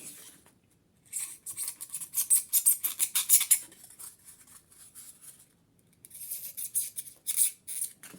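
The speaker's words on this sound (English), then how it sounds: "this time we need to cut off the central piece. Use a sharp knife." A sharp knife cuts off the central piece of a tile with quick, close, scratchy slicing strokes in two bursts, separated by a quiet gap. Nobody speaks.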